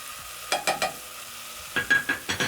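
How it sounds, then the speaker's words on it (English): A spoon stirs tomatoes and spices in a cooking pot, giving two short runs of quick scraping, clinking strokes with a faint sizzle, close and fairly quiet, with no talking. "Stir in the tomatoes."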